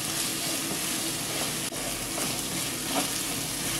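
Salted cauliflower sautés in a pan for a masala curry. A dense, steady sizzle runs throughout, with one brief knock partway through, and no voices.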